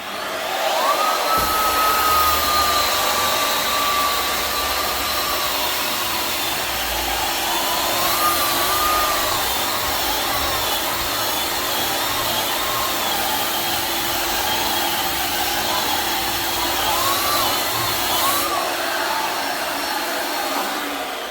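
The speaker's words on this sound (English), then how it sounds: "Once I've gone over it with the big sander, I just make sure everything's good with my hand sander." Electric drywall sander with a dust vacuum running on flood-damaged drywall sheets: a loud, constant whining motor drone lasting the whole stretch, with slight pitch wavers as the pad moves across the wall.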